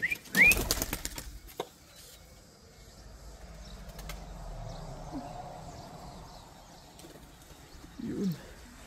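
Racing pigeons arrive at a loft at the end of a 388 km race in Masterton, New Zealand, with a burst of wing flapping near the start. Faint rustling and soft bird sounds follow in quiet outdoor surroundings.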